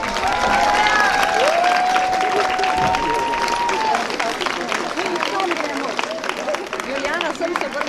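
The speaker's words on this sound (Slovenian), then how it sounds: "Zakaj mislite, da je bil ta aplavz?" Loud applause and crowd noise fill a school room, with voices speaking and calling out over the clapping as it gradually eases.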